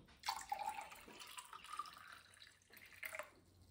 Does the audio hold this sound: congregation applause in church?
no